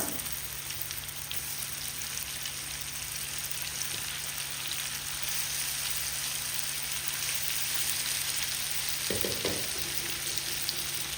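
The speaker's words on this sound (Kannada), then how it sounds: "ಈರುಳ್ಳಿ ಸ್ವಲ್ಪ ಫ್ರೈ ಆದಮೇಲೆ ಈ ಮಸಾಲೆ ಹಾಕಿದಂಥ ಚಿಕನನ್ನು ಇದಕ್ಕೆ ಹಾಕುವ" Masala chicken frying with onions in a pan makes a constant, moderately quiet sizzle and crackle, with a short clatter of stirring near the end and no talk.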